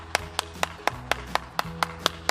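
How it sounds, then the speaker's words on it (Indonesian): Children's hands clap in an even, steady rhythm, about ten sharp claps in two seconds, close and distinct over a quiet background. "Tepuk tangan dulu dong buat Tuhan kita."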